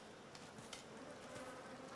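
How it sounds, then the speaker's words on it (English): A swarm of bees drones in a woodland scene of Ryse: Son of Rome, a faint, steady buzzing hum with slight flutters in pitch, quiet and continuous with no one speaking. "Oh, there's bees."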